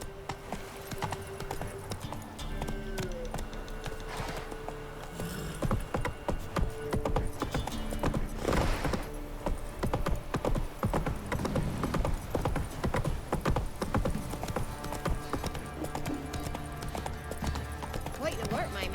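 Horse hooves clip-clopping at a steady trot in The Witcher 3, a continuous close rhythmic clatter, with spoken lines from characters over it.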